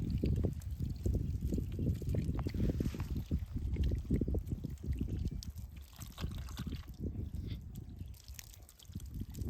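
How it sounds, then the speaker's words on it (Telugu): Water splashes and trickles over raw chicken being washed by hand in a village outdoor setting, an irregular sloshing and dripping close by with no talk. "ఇప్పుడైతే మనం అయితే వాటర్తో బాగా చికెన్ అయితే కడిగేసుకుందాం"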